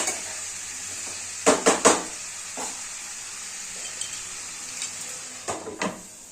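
Broad beans cook under a lid in a pan with a soft steady sizzle, broken by a few sharp metallic clanks of a spoon or lid against the pan early on and near the end.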